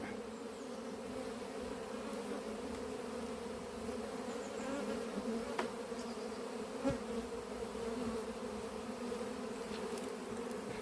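Honeybees shaken out of a drone layer hive swarm in the air, a dense steady buzzing hum that carries on without a break, faint and spread around.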